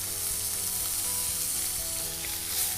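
Steak sizzles in a pan, a dense continuous hiss that stays loud and even throughout with a faint low hum beneath, no talking.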